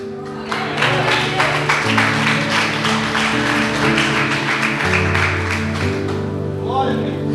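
A church congregation at a Wednesday evening service claps together in steady rhythmic applause, a sustained crowd sound mixed with organ or keyboard chords and a voice speaking over it.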